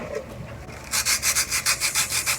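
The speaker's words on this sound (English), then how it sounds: "sand the glitter off" Rhythmic back-and-forth sanding of glitter-coated decorative legs for Easter decor, starting after a quieter moment and then settling into about a dozen steady, close rasping strokes with no talking.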